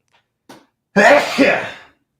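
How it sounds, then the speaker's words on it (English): A short intake of breath followed by a single loud, close sneeze burst that trails off. "hold on, I have to sneeze."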